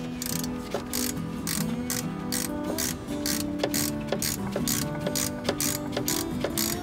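Ratchet clicking repeatedly as it tightens a metric size 7 Allen bolt on a Jeep XJ Cherokee brake caliper, a steady close run of sharp pawl clicks with no talking.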